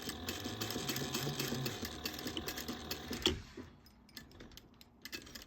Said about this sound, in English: So we're just going to sew that down at 1/8 of an inch.